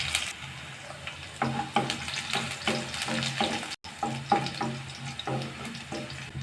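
Green chillies and garlic cloves fry in a pan for a beans poriyal, giving a close, continuous crackle with bursts of spattering and a short gap midway.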